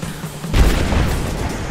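A smoke bomb bursts in Rise of the Tomb Raider, a sudden deep boom halfway through that swells into a loud, lingering rumbling hiss over the game's background sound.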